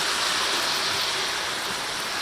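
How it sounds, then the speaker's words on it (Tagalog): Generous amount of vinegar poured into a pot of pork being cooked for sarapatel, heard as a steady, loud, continuous splashing wash with no pauses and no voices. "lalagyan na natin ng madaming suka"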